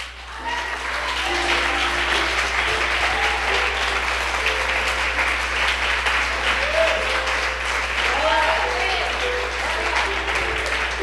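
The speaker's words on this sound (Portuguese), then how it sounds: "Será que nesta noite você pode aplaudir o Senhor?" A church congregation applauds steadily through the whole stretch at an evening women's network service, the clapping dense and sustained under a faint held musical tone.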